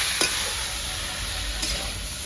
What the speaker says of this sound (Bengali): বন্ধুরা আলু বেগুন আমার ভাজা হয়ে গেছে